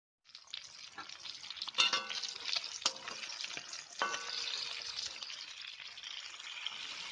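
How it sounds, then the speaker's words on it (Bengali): Fish frying in a pan in a Bengali kitchen, a close hissing sizzle that starts abruptly and stays steady, broken by a few sharper crackles and clinks, with no voices. "এখন আমি অন্য মাছগুলো ভেজে নিচ্ছি।"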